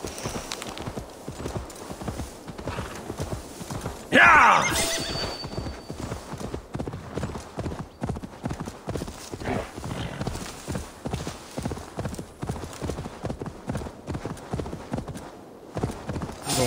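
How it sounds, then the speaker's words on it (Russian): Horse hooves clip-clopping at a steady walking rhythm throughout, with a brief louder burst near the start, in Assassin's Creed Valhalla set in East Anglia; no talk over it. "Лошадь, судя по всему."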